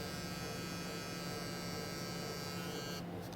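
Electric hair clippers trim a high fade with a close, steady buzzing hum that runs unbroken at an even level, cutting off briefly at the very end.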